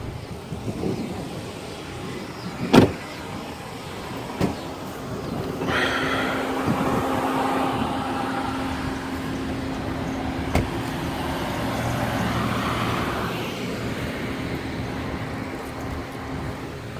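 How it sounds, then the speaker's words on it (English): A parked car with its engine left idling, a steady low hum beneath wind and microphone buffeting, with a few sharp knocks and faint outdoor sounds over seventeen seconds. "I'm gonna leave the car on for you."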